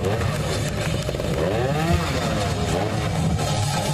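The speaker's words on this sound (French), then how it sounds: "Aide-moi à faire monter la moto." A trial motorcycle engine revs in loud, wavering bursts as the bike is pushed and ridden up a slope at an amateur motorcycle trial event, close and continuous, with voices in the background.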